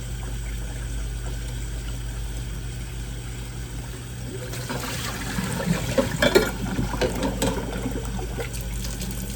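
Cold water starts running from a tap midway over eggs, splashing and gurgling in a sink over a steady background hum.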